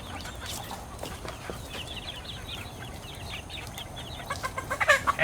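Aseel chickens clucking in a yard, a steady background of overlapping clucks that grows louder and busier near the end, with some sharper calls close by.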